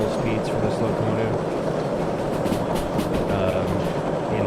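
Steam locomotive in the Derail Valley game rolling steadily along rails at a comfortable cruising speed, a continuous loud rumble with rhythmic wheel clatter throughout, with a voice talking over it.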